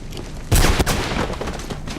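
Gunfire erupts in a cutscene from the video game Mirror's Edge: a sudden loud burst of shots, then a briefer rattle trailing off.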